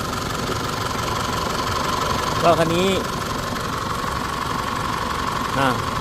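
An Isuzu D-Max diesel engine with an overrun fault runs at a steady idle, with a rough, vibrating hum. Someone talks briefly over it twice.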